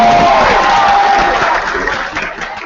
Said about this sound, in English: Let's give all the contestants a round of applause